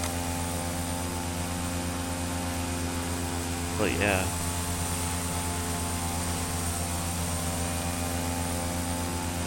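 Steady, droning propeller-plane engine hum inside a flight simulator game, constant and mid-level throughout, with someone briefly speaking over it near the middle.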